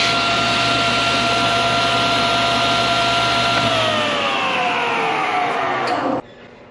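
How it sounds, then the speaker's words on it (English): A table saw blade spins at full speed with a steady loud whine, then begins winding down, the pitch dropping before the sound cuts off abruptly near the end. "now you can hear the saw blade moving and see it spinning"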